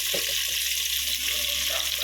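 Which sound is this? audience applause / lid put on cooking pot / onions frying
onions frying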